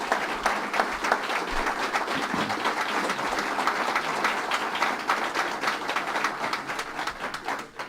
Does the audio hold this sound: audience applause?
yes